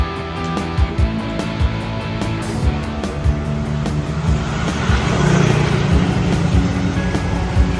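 A moped rides along a road on a hot day in Chanthaburi, Thailand, its small engine droning steadily with wind rush and passing traffic noise, fairly close and continuous.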